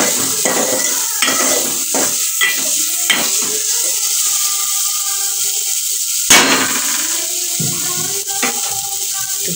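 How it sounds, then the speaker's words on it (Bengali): Spices frying in a pan on a home kitchen stove, a steady close sizzle with repeated sharp clinks and scrapes of a spoon stirring against the metal pan, no talking. "একটু ভাজছি মশলাটা"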